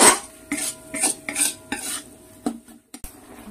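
Metal spoon stirring and scraping fish curry spice paste as it sautés in a pan, giving a string of close, distinct clinks and scrapes with quiet pauses between them and no talking.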